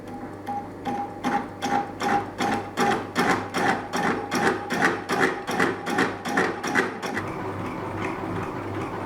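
A masonry drill bit in a milling machine's vertical head thumps in a fast, steady rhythm of repeated pulses, close and fairly loud, settling into a smoother whir near the end.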